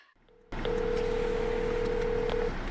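Telephone dialing tones at the start of a recorded call: after a brief quiet moment, one sustained electronic tone holds steadily with small blips, clear and close on the line.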